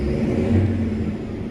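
Tractor engine running with its silencer taken off, a loud, close, deep rumbling drone that holds steady with a slight rise, on a wet day.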